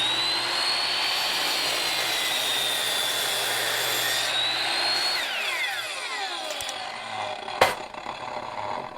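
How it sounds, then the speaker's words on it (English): A Ryobi 12-inch single bevel sliding miter saw whines at high speed as its blade cuts through hard, dry elm, the motor pitch holding steady then winding down, followed by a sharp clack near the end. "we are cutting a hard, dry piece of elm that I have"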